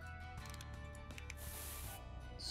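Quiet spraying hiss from a tool in Scribblenauts Unlimited, a steady stream over a low game background that brightens briefly near the end.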